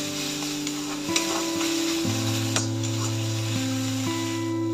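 Garlic paste frying with salt and turmeric in a pan, a steady loud sizzle with occasional scraping stirs and a constant background hum, no talk.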